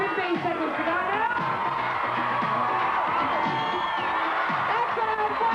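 Crowd at a 1984 BMX race cheering and whooping loudly, a dense mix of yells and children's shouts sustained throughout, with a commentator talking over it.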